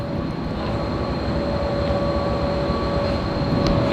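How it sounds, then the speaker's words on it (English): A train pulls into a station in Pakistan, giving a steady loud rumble of railway cars with a faint high whine running underneath, and no voices. "our train has arrived"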